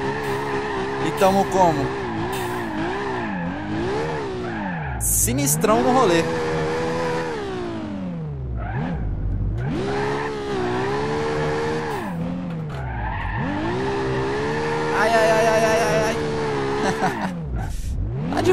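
A Toyota Supra drifts in BeamNG.drive with the engine revving up and down and the tires squealing in long sweeping slides, loud and close, while people talk over the driving.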